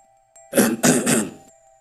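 A loud, abrupt throat clearing in two or three harsh bursts, close by, with no talking around it.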